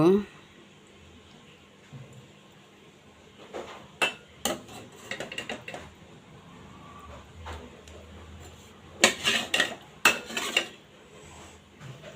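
Dishes and cutlery clink and clatter in irregular bursts while sharon puti fish with onion and chilli is served onto plates, close and fairly loud, with a voice talking in between.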